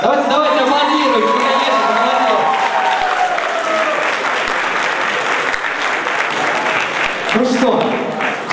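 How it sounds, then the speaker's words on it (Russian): An audience applauds at a beauty contest with sustained, dense clapping throughout, loud and full, while a voice speaks over it at the start and again near the end. "Давайте, давайте аплодируем."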